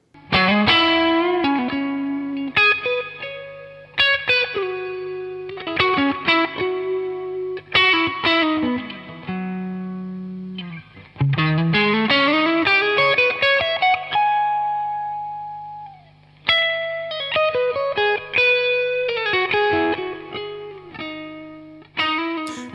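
Electric guitar played through an MXR spring reverb pedal, ringing chords and single-note lines with a distorted edge and a springy, splashy reverb tail, loud and upfront with brief pauses between phrases.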